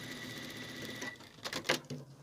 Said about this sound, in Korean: 그래서 이렇게 박음질 하고요.